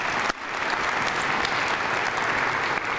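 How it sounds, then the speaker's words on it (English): An audience at a county state-of-the-county address claps together in a thick, continuous burst of applause that holds at an even level throughout. "Can we give them a round of applause?"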